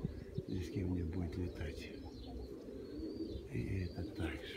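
A lone pigeon coos in low, throaty, rolling bursts close by, with faint chirps and rustling around it and someone talking over part of it.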